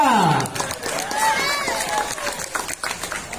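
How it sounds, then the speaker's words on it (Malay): Audience at a school quiz contest cheering team A, a loud burst of shouting and clapping that stays lively around a voice over the hall. "Penonton beri semangat untuk regu A."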